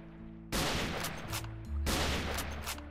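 Video game gunfire from the Techguns Minecraft mod, a kalashnikov-style rifle: two loud bursts of rapid shots, each followed by a trailing echo, with a quiet gap before the first.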